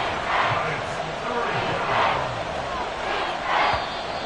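A home stadium crowd roars in a video game American football match against Carolina, a broad swelling wall of noise rising and falling in waves under a commentator's talk.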